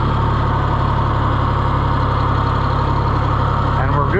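A John Deere 1020 tractor engine runs steadily at a low, even idle throughout, close and constant with a faint rattle near the end.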